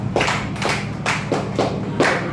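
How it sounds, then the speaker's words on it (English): Students in a college classroom clapping for a classmate, giving about five slow, loud, evenly spaced rhythmic claps together, close by. "Please clap for her."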